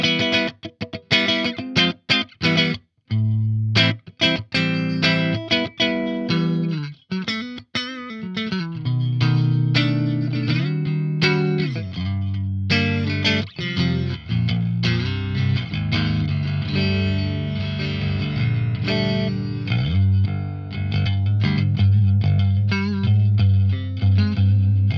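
Firefly baritone electric guitar with Guyker humbucker pickups in parallel coil-split mode, played through heavy distortion with chorus and reverb, choppy palm-muted chugs giving way to sustained low riffs and ringing chords.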